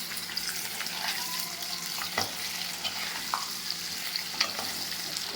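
Potato egg curry frying in a pan, a steady close sizzle with occasional spoon scrapes and knocks against the metal as it is stirred.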